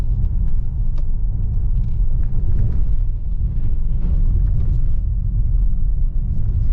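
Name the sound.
2018 Ford Explorer Sport driving over train tracks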